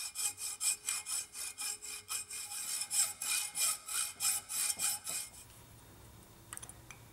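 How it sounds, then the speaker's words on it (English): Rhythmic back-and-forth grinding on a cast bronze arrowhead, about fifteen even rasping strokes up close before stopping, followed by faint clicks. "I'm going to use the grinder."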